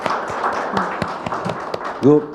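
Sparse, scattered claps from an audience at a policy forum, mixed with a nearby voice talking over them.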